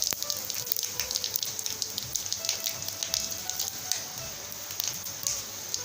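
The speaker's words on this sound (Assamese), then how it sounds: "মাছ ভজা তেলখিনিতে মই এতিয়া শুকান জলকীয়া আৰু পাঁচফোৰণ দি ল'ম।" Dried chillies and five-spice seeds hitting hot oil left over from frying fish, a steady crackling sizzle with dense popping throughout, close and fairly loud, with no talk.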